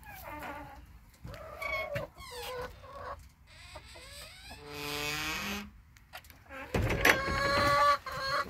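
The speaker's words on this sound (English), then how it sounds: "Put the chickens away." Chickens clucking and squawking close by, with several rising, bursty calls and one loud squawking stretch toward the end, amid rustling movement.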